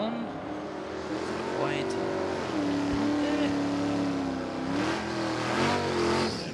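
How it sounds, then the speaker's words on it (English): An old school Mustang and a Dodge drag racing at Willowbank Raceway: loud engines rev and accelerate with a rising, shifting drone while an announcer talks over them. "The old school Mustang up against the Dodge."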